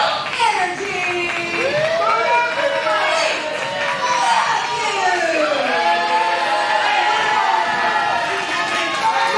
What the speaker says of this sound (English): The Emerge crowd, they're never not one to let you know their feelings.